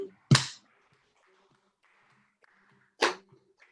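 Hands clap out a count in a music class, two sharp, close claps separated by a few seconds of near silence.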